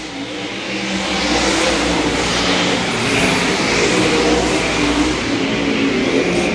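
Modified race cars in a Saturday night dirt-track heat roar past together, a loud, sustained engine drone that swells and holds as the pack crosses near, with no voices over it.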